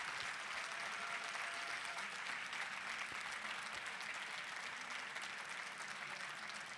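An audience at the end of a keynote talk on consciousness and quantum physics breaks into continuous applause. The clapping is dense and even, moderately distant, and sustains steadily for the full length.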